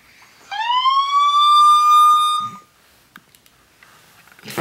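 An electronic toy police siren sounds one loud, bright, rising wail for about two seconds, then cuts off, leaving a few faint taps and rustles.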